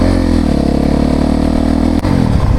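Polaris off-road vehicle on a mountain trail with a slipping clutch, engine held at a loud, close, steady rev with a buzzing drone, then dropping off abruptly after a sharp break near the end.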